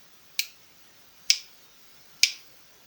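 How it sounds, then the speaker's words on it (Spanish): Three crisp finger snaps, evenly spaced about a second apart, close and clear against a quiet background. "Al final haces 3 chasquidos con cualquiera de tus 2 manos."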